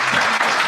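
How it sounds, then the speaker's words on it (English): Audience clapping at an awards event, a short dense burst of applause filling the moment without pause. "Clap it up for Alexis."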